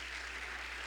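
Church congregation giving a round of welcome applause, a brief dense wash of clapping at moderate distance over a low steady hum.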